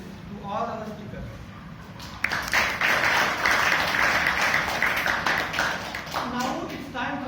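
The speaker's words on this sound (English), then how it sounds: "Let's now give a big round of applause to all our speakers." A Toastmasters meeting audience claps for its speakers, a dense burst of applause rising in the middle and fading, with talk heard before and after.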